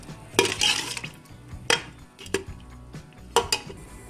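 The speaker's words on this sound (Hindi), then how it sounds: "अब इसे हम दाल में डालेंगे। एक दफ़ा चम्मच चला दें।" A spoon stirs a fried golden-brown tempering into whole masoor dal, with sharp metallic clinks and scrapes against the pot in a few bursts amid quieter gaps.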